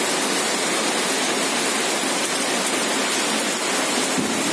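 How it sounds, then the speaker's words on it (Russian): A heavy downpour of big raindrops beats on a balcony, a dense, steady roar that stays loud and even throughout with no voices. "Ливень, это балкон. Капли очень большие, льет."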